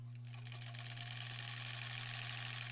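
A domestic sewing machine runs steadily as it stitches quilt scraps together, giving a fast, even mechanical whir with a constant motor hum that grows slightly louder. The machine is close and is heard alone.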